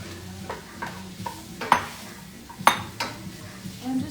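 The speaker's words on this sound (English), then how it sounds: "I'm just going to stir it around and definitely stir it around" Vegan sausage being stirred in a pan with a utensil, soft scraping and a couple of sharp clinks against the metal over a faint sizzle, close by with no talking.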